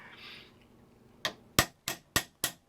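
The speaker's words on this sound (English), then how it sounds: "I just tap it all the way around until I create a mushroom so that the wheel won't come off anymore." A tiny ball peen hammer taps the end of a Dinky 153 Vanguard toy car axle shaft to mushroom it over the wheel. Five sharp, close metallic taps come at an even beat after a short quiet lead-in.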